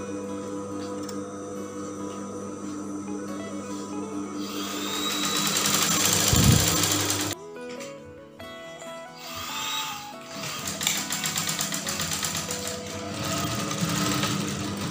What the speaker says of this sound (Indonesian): Bagian sisi kita jahit.